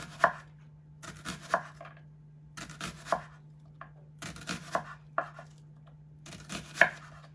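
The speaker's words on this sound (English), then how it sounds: "So I'm just going to cut it in half and then just thinly slice it" A knife thinly slices a halved onion on a cutting board for chicken tinga, giving close, crisp chopping strokes in loose clusters of two or three. Short pauses fall between the groups, and no one talks.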